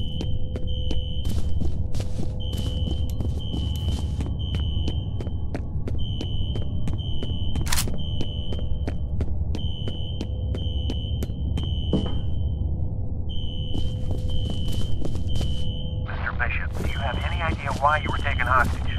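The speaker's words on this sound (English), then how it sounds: "A fire alarm. It was triggered at a security office on that floor." A fire alarm in the F.E.A.R. shooter, set off in an office building's security office, repeats an urgent high electronic beeping in regular pulses over a low humming background, with voices talking beneath.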